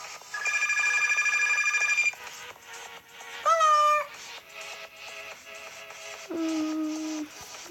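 Phone ringing in the Pizza Factory Tycoon video game: a loud electronic ring with stacked tones in a few bursts, broken by shorter melodic chimes and game sounds.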